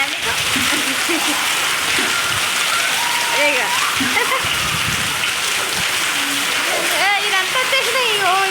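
Hail falling with heavy rain in Hyderabad: a dense, constant roar of drops and ice striking surfaces, with splashes and a voice talking beneath the downpour.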